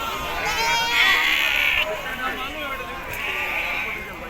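Sheep bleat at a busy goat and sheep market in Vadod, Maharashtra, with several calls rising over a steady crowd murmur and people talking nearby.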